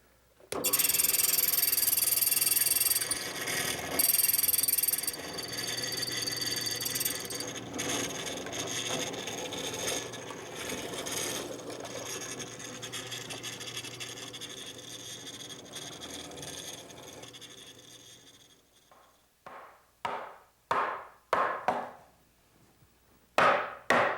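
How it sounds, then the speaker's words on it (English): Mortising attachment chiseling mortises in wood: a loud continuous grinding, rasping cut that gradually eases, followed by several short sharp knocks and chops near the end. "I've set it up to cut a mortise about 1 inch deep, centered on the piece, a 1/2 inch wide, and about 2 inches long"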